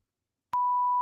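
A single steady electronic beep tone, about half a second long, sounding alone and clean after silence, used as a goofy stream sound effect.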